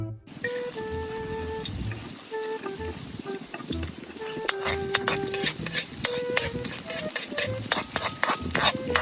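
Onion and garlic sauté with black pepper in a pot, a steady close sizzle with scraping and clinking as a utensil stirs, metallic ringing tones and clatters rising in the second half.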